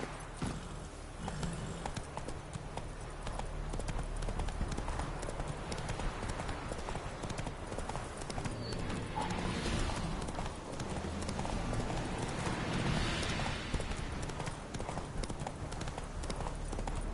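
Horse hooves clip-clop steadily in The Witcher 3, a continuous rhythmic trot heard close under an ambient game soundscape, with faint voices now and then.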